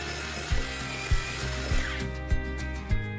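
Electric drill stirring a thick batch of wall putty (plamir) in a bucket, a steady motor whine with rhythmic low knocks about every half second as the paddle scrapes through the mix.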